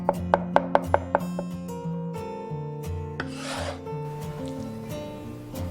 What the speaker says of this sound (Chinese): 重新倒入菜板上切碎一点。